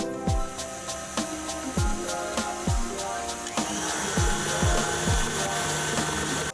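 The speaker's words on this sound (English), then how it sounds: "I'm going to let it beat for about 4 to 5 minutes until it's all nice and beautifully fluffy together" An electric mixer whirs steadily, beating gingerbread cupcake icing made with icing sugar, molasses, vanilla, spices and a splash of milk, with a loud continuous motor drone and regular rhythmic knocks against the bowl.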